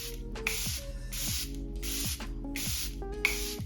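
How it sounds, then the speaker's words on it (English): Four short bursts of a makeup setting spray's fine-mist pump, evenly spaced about a second apart, close and crisp, each with a soft click at the start. "I'm going to need to use this setting spray to make sure it lasts."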